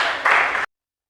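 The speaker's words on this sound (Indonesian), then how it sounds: "Oke, tepuk tangan untuk Theo Fandri." A short burst of applause from a class of students during an Indonesian accounting lesson, dense and fairly close, lasting just over half a second before cutting off abruptly.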